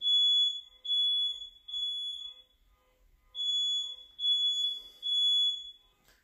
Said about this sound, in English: I think my smoke detector set off the car alarm outside.